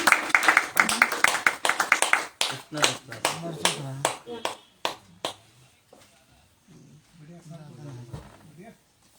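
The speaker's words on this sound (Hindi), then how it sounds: "अब तो सर के सम्मान में तालियां बजनी है।" Applause for an honoured guest at a Hindi poetry gathering: a burst of scattered claps in the first seconds that thins to a few sharp hits, then fades as a voice takes over.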